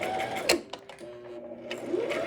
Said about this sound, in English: so right here I'm just gonna back stitch.